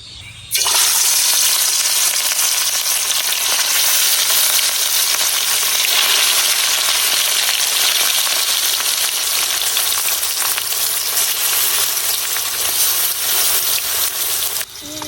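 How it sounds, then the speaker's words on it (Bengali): Rohu fish sizzles loudly in hot oil in a wok, the hiss starting abruptly and staying dense and steady throughout, with no talking. "এখন আমি মাছগুলা দিয়া ভাজা নিয়াম"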